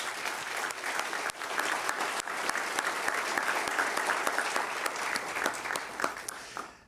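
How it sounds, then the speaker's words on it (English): An audience at a Moreno Valley State of the City event applauds commissioners and board members: dense, steady clapping that holds for several seconds, then thins and fades near the end, with no talking over it. "Can we please give our commissioners and board members a big round of applause?"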